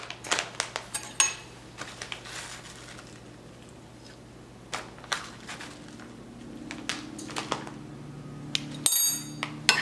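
Cheese is stirred into corn in a bowl for Mexican street-style elote, with irregular clinks and scrapes of a utensil against the bowl, close and fairly quiet, continuing for several seconds.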